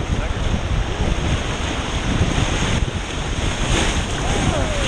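Whitewater rapids on the Kicking Horse River roar and crash continuously close by, waves slapping a raft and churning with heavy wind-like noise throughout, no pauses.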